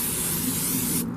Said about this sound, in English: we're going to take our cooking spray